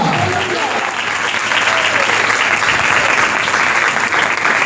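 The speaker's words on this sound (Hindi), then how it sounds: "हाथ हिला दे जरा और यीशु के लिए जोरदार ताली बजा दे।" A church congregation at a Christian worship service breaks into loud, sustained applause, a dense continuous roar of clapping that fills the whole stretch without letting up.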